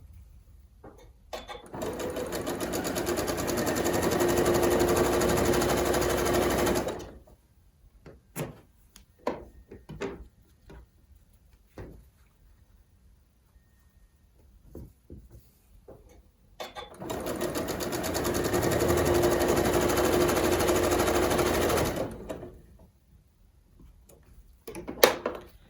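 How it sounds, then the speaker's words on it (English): A sewing machine stitches quilt squares along a diagonal line in two long, steady runs of rapid needle chatter, with quiet handling clicks and fabric rustles between the runs. "sew directly on that diagonal line"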